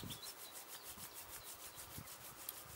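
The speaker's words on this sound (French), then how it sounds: "On frotte à nouveau les mains, on amène la chaleur dans nos mains." Palms briskly rubbed together to warm the hands during a qi gong self-massage, a quiet steady rhythmic swishing friction close by, no voices.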